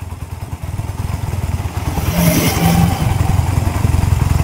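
A Barako motorcycle engine idles while warming up, a steady close low thumping that swells briefly louder midway before settling back, with no talk.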